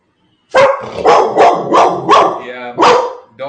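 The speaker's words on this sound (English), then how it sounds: "dog started barking" A dog barks loudly and nearby in a repeated series of sharp woofs, about six barks in quick succession, over an otherwise quiet background.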